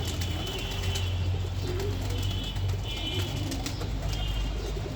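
Pigeons cooing indoors at close range, soft repeated low coos layered over steady background noise, with faint chirps and a brief flutter of wings.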